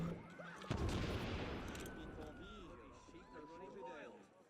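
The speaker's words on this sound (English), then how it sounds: "So we can just chuck a mortar in there." A mortar fired in the Assassin's Creed Unity video game lands with a sudden loud blast and rumbling crowd chaos, with someone talking over it.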